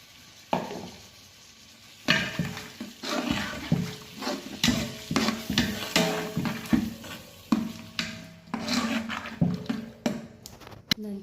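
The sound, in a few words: stirring bisibele bath masala mixture in pan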